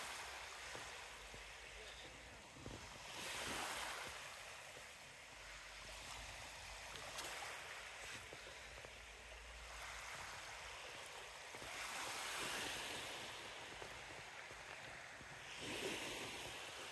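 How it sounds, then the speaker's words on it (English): Sea waves washing onto the shore at Margate, a steady broad rush that swells and recedes in slow surges, with wind noise over the beach; no talking. "Don't you just love the sound of the sea?"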